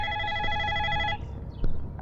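A telephone rings with a steady electronic trill for about a second, then cuts off, leaving a soft thump and quiet room noise.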